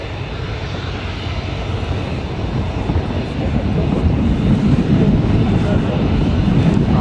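A plane's engine roars at Newcastle Airport, a broad, steady rumble that swells louder over several seconds.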